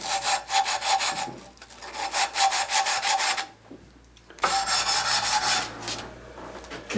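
A wooden hand plane is worked by hand with a file, giving rapid rhythmic rasping strokes in two long bursts separated by a short pause, close and fairly loud with no talk.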